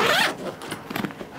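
One quick zipper pull rips along a camera backpack to open its expansion section, a short close scratchy burst followed by a few faint handling rustles.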